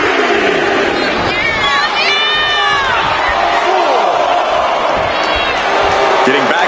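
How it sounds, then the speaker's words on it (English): A crowd roars and cheers continuously in the wrestling video game WWE 2K26, a dense arena din with shouts and whistles rising over it, while a commentator talks over the noise. "Just listen to this crowd. Every one of them is on their feet."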